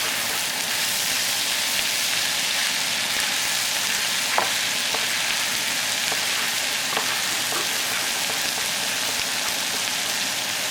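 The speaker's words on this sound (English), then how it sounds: "back to cooking my sausage" Sausage sizzles in a hot pan over medium-high heat, a continuous crackling fry with scattered sharper pops and spits, close and steady throughout with no talking.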